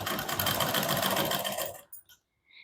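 A sewing machine runs steadily for almost two seconds while stitching a size-32 double katori blouse, then stops, leaving a few faint small clicks and noises.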